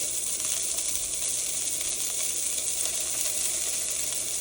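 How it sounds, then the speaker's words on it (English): Steak searing in a hot pan gives a steady, close sizzle with fine crackling throughout, no voices over it. "We're getting a real nice sear on this steak."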